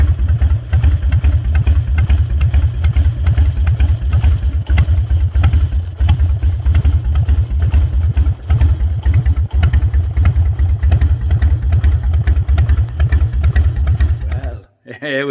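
A motorcycle engine runs continuously while riding on a cold, crisp morning, loud and close with a throbbing, clattery rhythm throughout, ending with a short dip and a brief burst of voice at the very end.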